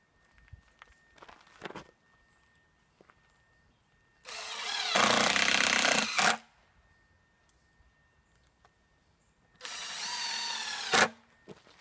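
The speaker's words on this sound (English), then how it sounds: "And we go ahead and drill." A drill bores into a timber-frame beam through a T-REX drill jig clamped on its end, spinning the jig's bushings, two loud sustained bursts of a few seconds each with quiet handling clicks and taps between them.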